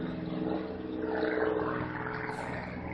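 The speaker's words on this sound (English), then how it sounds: "That's an airplane." A propeller airplane drones steadily overhead, a continuous low engine rumble with a broad rushing wash that holds at moderate loudness throughout, with no voices.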